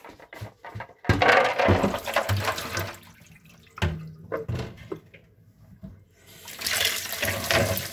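An amulet crystal is rinsed under a running tap, water splashing loudly in bursts that stop and start, with quieter dripping in the pauses.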